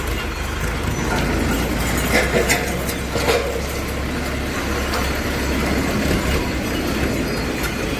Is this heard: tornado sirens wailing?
no